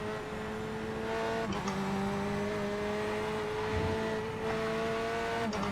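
A race car in a racing game takes Monza's Parabolica corner, its engine holding a steady high drone with slight pitch shifts as it rounds the bend, loud and continuous throughout.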